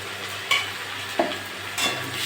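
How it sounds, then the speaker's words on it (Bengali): Ginger garlic paste stirred with fried onions in a pan, a soft steady sizzle with three distinct scraping strokes of a spoon against the pan, close by. "নেড়ে চেড়ে নেব।"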